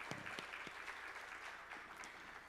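A church congregation at a New Year's Eve service claps together, steady dense applause heard faintly at a distance, with a few louder individual claps standing out.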